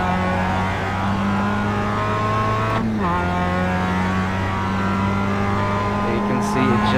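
A Mazda MX-5 Cup race car in iRacing holds a steady, loud engine drone with a short gear change midway, the tone dipping then settling again, while someone talks over it.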